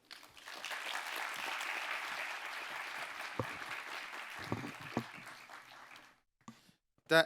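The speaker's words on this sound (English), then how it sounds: "please join me once again for a round of applause for His Excellency President Ali" A forum audience applauds a president for about six seconds with steady, dense clapping, then a few scattered claps trail off into near silence before a brief sound at the end.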